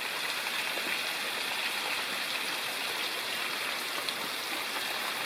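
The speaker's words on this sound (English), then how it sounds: "Here's a small waterfall." Small waterfall splashing into a rocky gorge at Colditz Cove, a steady broadband rush of falling water close by, continuous and even throughout with no voices.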